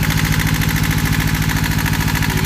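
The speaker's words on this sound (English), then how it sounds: "We're at the dock, the fast idle, I guess." A boat engine runs at fast idle inside its insulated engine room, heard close and loud as a steady, evenly pulsing drone with no talk.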